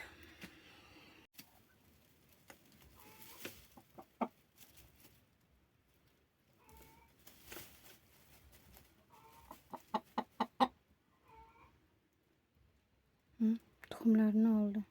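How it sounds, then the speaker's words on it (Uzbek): A brooding hen being set on eggs gives several short clucks in bursts, close by and moderately loud, between stretches of quiet handling noise; a person speaks intermittently nearby. "hozir narigi tovuqni olib kelaman"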